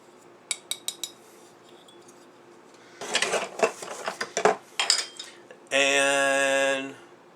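Loose Bakelite Hammond B3 organ keys rattle and clink in a box, with a few light taps, then a burst of jostling clatter, followed by a short sustained organ-like tone near the end.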